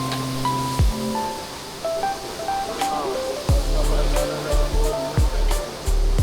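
Water falls steadily inside the Geoje Jungle Dome, an indoor tropical greenhouse, as a continuous rushing wash beneath loud intermittent low thumps and a few bright tonal chirps. No clear speech is heard.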